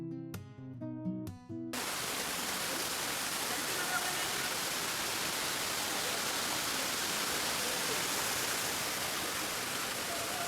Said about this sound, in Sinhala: මේකේ සද්ද ඇහුණා මේ වතුර පාරේම හරිම ෂෝක් අනේ